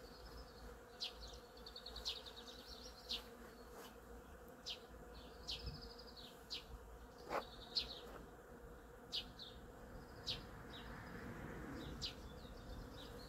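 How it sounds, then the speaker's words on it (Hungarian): Honeybees buzz around a flowering cherry tree outdoors on a fine spring day, a steady low hum with individual bees passing close in brief louder swells, and occasional bird chirps faintly in the background. "Úgyhogy megjöttek a méhek"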